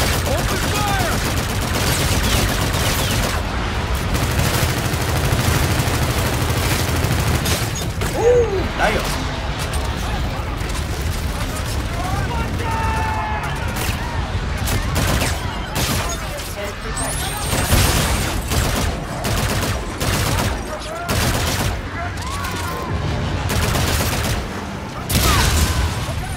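Sustained gunfire from a shooter video game on specialist difficulty, dense bursts of automatic fire and booms running throughout, loud and continuous, with people talking over it.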